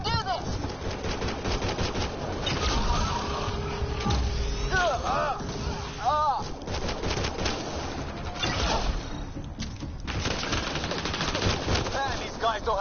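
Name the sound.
machine gun fire in video game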